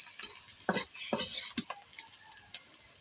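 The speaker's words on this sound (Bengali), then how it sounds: "মাটির চুলায় আজকের রেসিপিটা রান্না করতেছে।" Cooking over a clay stove: a ladle stirs and scrapes a pan in a few brisk strokes over a faint sizzle, with soft clinks between, close by and without talk.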